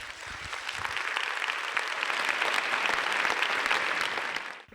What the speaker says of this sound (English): So I think we should give them applause, even if they're not there